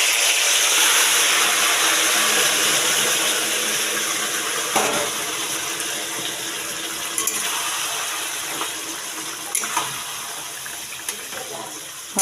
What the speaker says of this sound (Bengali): বাকিটা তেল দিয়ে এই তেলের মধ্যে এবার মাটনটা দিয়ে দেবো